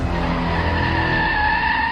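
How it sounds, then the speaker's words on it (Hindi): A car brakes suddenly and its tires skid with a loud, sustained screech that rises slightly in pitch over two seconds. "सोहम ने अचानक से ब्रेक लगाई"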